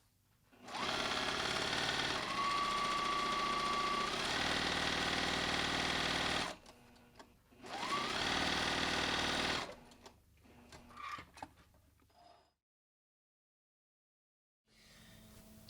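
A sewing machine stitches a pant seam at half an inch with no back tacks, running in two long steady bursts with a short pause between, then a few brief handling noises and a stretch of near silence.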